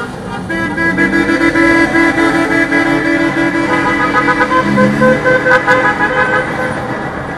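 A Lada Niva sounds its horn on a busy city street in Yerevan with a sustained, loud honk against traffic noise. Voices are faintly audible.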